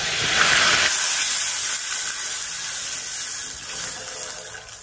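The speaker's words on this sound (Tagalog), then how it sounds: "ibuhos na natin yung ating kakang gata" Coconut cream is poured into sautéed onions, starting with a loud rushing hiss that then settles into a softer, continuous sizzle.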